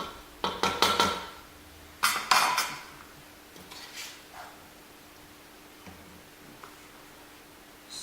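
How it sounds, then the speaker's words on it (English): Beef pot pie filling is spooned from a pot into a baking dish, heard as clattering scrapes and clinks of a utensil against metal and ceramic in a few bursts, then quieter pauses with scattered light taps. "now you just want to transfer it into your baking dish"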